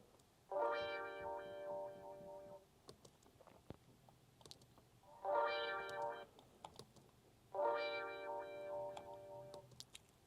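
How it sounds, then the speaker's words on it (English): Three separate bursts of a dry, unprocessed electric guitar part with no wah effect, each lasting about two seconds and separated by short quiet gaps, sitting alone and fairly quiet. "we've got this guitar wah effect, which without anything sounds like this"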